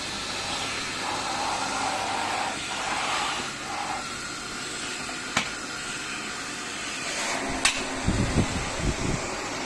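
A Philips 9923 vacuum cleaner runs steadily with a continuous airy motor whoosh, close and fairly loud, with a few handling clicks and knocks toward the end.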